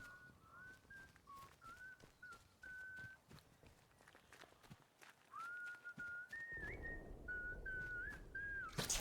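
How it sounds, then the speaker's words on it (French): Melodic whistling heard in the video game Atomfall, short rising and falling phrases repeated at a moderate distance over faint footsteps and ambient rumble, growing louder toward the end. "Entend siffler."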